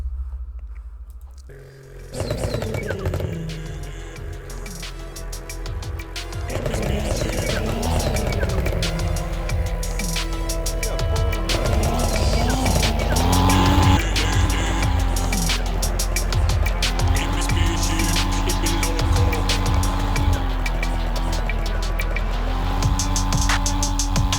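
A racing video game plays a car engine revving and droning with shifting pitch, plus tire squeal, loud and continuous after a short quiet opening, with no speech.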